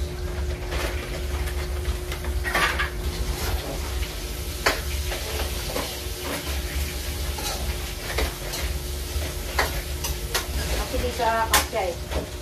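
Garlic, onion and carrots sautéing in a pan in a small kitchen, a steady close sizzle with scraping stirs and occasional utensil clicks against the pan.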